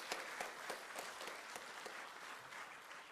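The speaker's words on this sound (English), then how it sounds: "Please give a big applause to Mr. Kim Jae-yoon." An audience at a formal gathering with government officials gives a round of applause. The clapping is steady and moderately distant, with some sharper individual claps standing out from the crowd.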